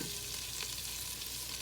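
Flour is stirred into melted butter for a roux, making a dense, continuous sizzle and frying hiss that stays loud and close throughout, with faint stirring scrapes.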